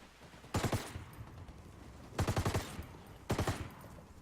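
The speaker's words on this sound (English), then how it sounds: "This Mark 48 will actually shoot through buildings, walls." A Mark 48 machine gun fires in Ghost Recon Wildlands, three sharp bursts of rapid automatic shots spaced a second or more apart, loud and close over a quiet background.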